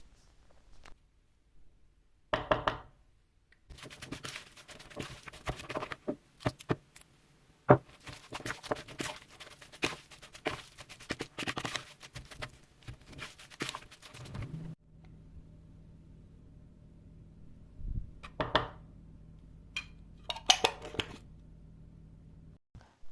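Frozen peppers chopped with a knife on a cutting board in a home kitchen, heard as bursts of quick, close tapping and crunching cuts separated by short pauses, moderately loud, with no talking.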